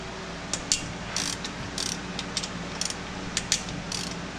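A ratchet loosens the cam bolts on a 4.6L 2V engine, giving short bursts of close, crisp clicking spread across several seconds with no talking.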